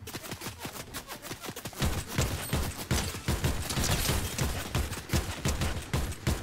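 Dense, continuous bursts of rapid video game gunfire crackle and thump together, loud and sustained like a running firefight, with no voices over it.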